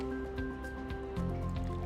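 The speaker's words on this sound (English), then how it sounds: "just gently scrub it like that" Wet dance costume fabric gently scrubbed by hand, giving soft squishy, dripping wet rubbing sounds that repeat close by in a steady rhythm, with a faint background hum and no talking.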